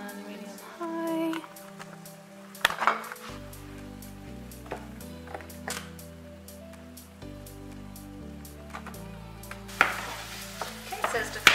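Ground beef browns in hot olive oil in a pan on medium-high heat, with a constant sizzle broken by sharp clatters and scrapes of a utensil stirring the meat.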